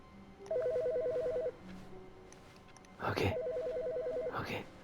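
Two bursts of an electronic phone ring trill through a room, the second partly overlapped by people talking nearby.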